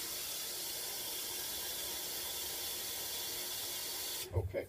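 Water runs steadily into a hot water heater tank during flushing, a continuous hiss of flow that cuts off near the end, followed by a couple of brief low thumps.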